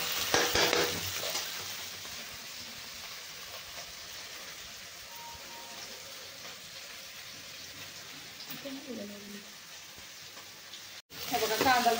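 Onion and tomato sauté in a pan with a soft, continuous sizzle and occasional spoon scrapes and stirs, louder at the start and end.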